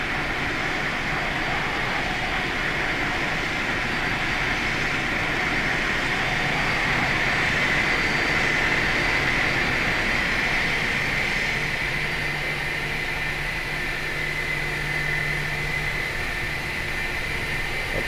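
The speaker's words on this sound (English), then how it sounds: "Why don't you start your engines during push? Because I wanted to be able to listen to it" Airbus A320 jet engines spooling up during pushback in a flight simulator, a steady loud roar with a rising whine that holds throughout, no talking over it.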